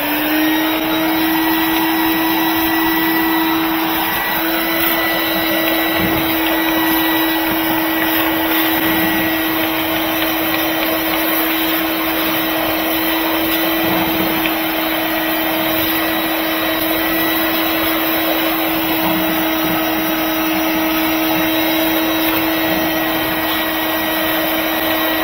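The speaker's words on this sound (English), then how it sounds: "Let's vacuum it one more time and blow it off" A shop vacuum runs steadily, loud and close, as it cleans the engine bay of a 2005 Chevy 2500 pickup with a 6.0 engine, its constant whine unbroken for the whole stretch.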